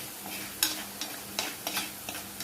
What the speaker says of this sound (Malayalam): കാന്താരി അങ്ങോട്ട് വീഴുമ്പോഴത്തേക്കും തന്നെ പൊട്ടാൻ തുടങ്ങും